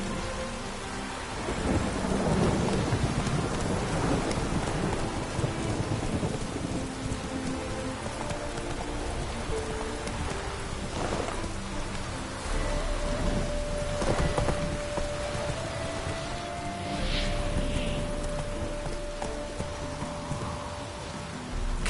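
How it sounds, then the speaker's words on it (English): Steady rain pours down with rolling thunder rumbling through the storm in The Witcher video game, a continuous wet hiss under deep swells of thunder and no voices. "Rain doesn't bother you, it seems."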